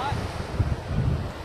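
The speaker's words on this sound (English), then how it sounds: "Look at these waves just crashing down there." Surf breaking along the rocky shore at Punta Azul on Isla Mujeres, Mexico, a steady low rumble of crashing waves mixed with gusting wind buffeting the microphone, with no voices over it.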